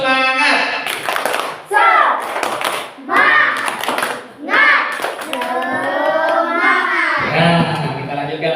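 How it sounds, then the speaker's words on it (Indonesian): Elementary school children join in a rhythmic chant-and-clap routine, bursts of group clapping alternating with their voices in a patterned beat, loud and close throughout. "Tepuk semangat."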